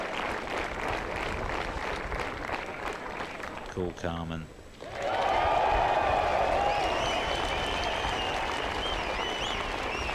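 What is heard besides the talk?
golf gallery cheering and applauding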